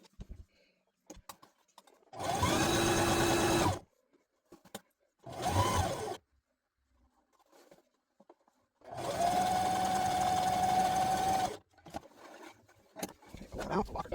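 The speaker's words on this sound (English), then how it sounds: "I'm just pretty much top stitching it on this side, filling where I have my sergering stitch, and going straight across, locking it all down" Sewing machine top stitching an apron, running in three loud, steady whirring bursts of roughly two, one and three seconds, separated by near-silent pauses with small handling clicks.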